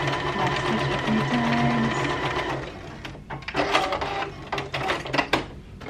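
A sewing machine back stitching on a crop top, its steady whirring run giving way to choppy, stop-start bursts of stitching close by.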